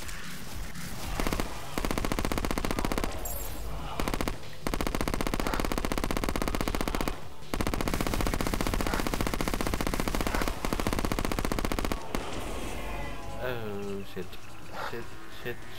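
Rapid, dense automatic gunfire from a gun in the video game Terraria, firing in long sustained bursts with brief gaps, loud and continuous with game sound effects.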